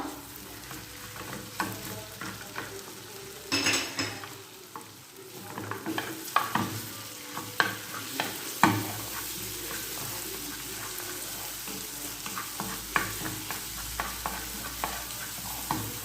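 Onion frying in a pan for a simple tomato sauce, a steady soft sizzle under repeated scraping stirs and a few sharp clinks of a utensil against the pan, close and moderately loud with no talk.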